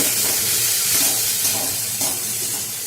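Tomatoes sautéing in a pan give a steady, loud hiss of steam and sizzle with faint stirring scrapes, continuous throughout with no voices.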